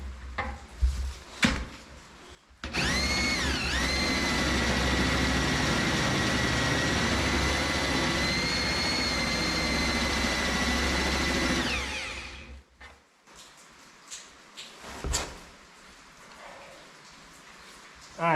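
A power tool sharpening metal grinds steadily and loudly for about ten seconds, its whine shifting in pitch, with quieter clatter and handling noise before and after, set during a homemade welded main gate build.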